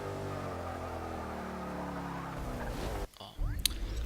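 A 2012 Bowler EXR S engine in the Forza 6 racing game drones steadily at high revs, then cuts off abruptly and fires back up with a sharp burst of revving near the end.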